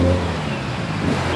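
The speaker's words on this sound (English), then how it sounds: "Look at the, all the cars that are pulling in." Cars, including BMWs, rolling into a busy car meet, a steady loud rumble of engines and road noise nearby with no clear speech.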